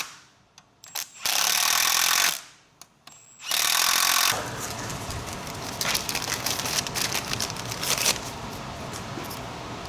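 Bursts from a cordless impact wrench during a 6.7L Powerstroke engine install, two loud roughly one-second runs separated by pauses, then a busy stretch of continuous workshop tool noise.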